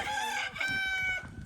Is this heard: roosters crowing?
yes